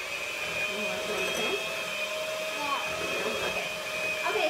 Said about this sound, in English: We have to use the mixer.